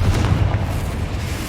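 Confringo fire spell in Hogwarts Legacy letting off a loud, booming explosion with a deep low rumble that carries through the whole short moment, alone with no talk.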